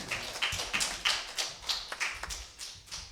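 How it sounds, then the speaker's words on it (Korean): Clapping from a church congregation at a youth gathering, a steady run of separate sharp claps, fairly faint and with no voices over it. "우리 박수 주십시다"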